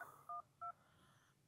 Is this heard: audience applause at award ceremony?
no